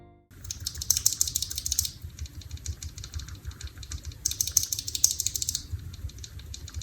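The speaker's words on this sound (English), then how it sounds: "Now let's hear what the sound is between a stock and a lubed and filmed switch." Mechanical keyboard switches, first stock and then lubed and filmed, clicking under repeated presses in two bursts of close, crisp keystroke clatter over a low steady background hum.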